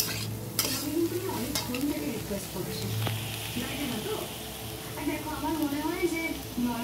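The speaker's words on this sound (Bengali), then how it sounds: "এর মধ্যে ডিম দিয়ে দেবো ফাটিয়ে" Potatoes frying with onion and green chilli in a pan are stirred steadily. A continuous close sizzle and scraping run under a person talking throughout.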